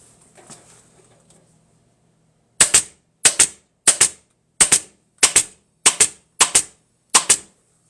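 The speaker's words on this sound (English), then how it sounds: "I missed this whole line, so let me get that stapled before I go too far." A staple gun drives staples into upholstery fabric on a mid-century modern recliner with eight sharp, evenly spaced snaps at close range. A few faint handling noises come first.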